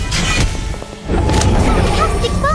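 A bomb explosion spell goes off in Harry Potter: Magic Awakened, a deep booming thud layered with game effects and music. A second heavy impact swells midway and sustains loudly to the end.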